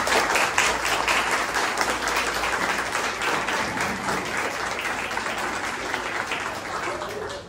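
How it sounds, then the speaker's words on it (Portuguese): A room full of people at a spiritist evening meeting clap together in sustained, even applause, loud and close, with a faint voice beneath the crackling hands. "Mais uma salva de palmas para ela."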